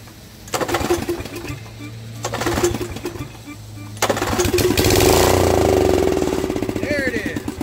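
A Snapper riding mower engine cranks on repeated pull-starts, catching on the fourth pull and settling into a loud, steady running drone; a voice speaks over part of it.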